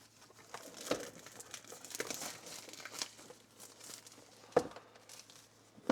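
Cellophane wrapping on a new motorcycle CarPlay device crinkles in close, quiet bursts with a few sharper crackles and brief pauses, and no one talks.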